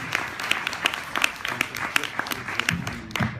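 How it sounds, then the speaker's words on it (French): Audience applause after short films are presented at a screening event, scattered hand claps with speech-like sounds mixed through, moderately near and of medium loudness. "Eh bien, on peut les applaudir."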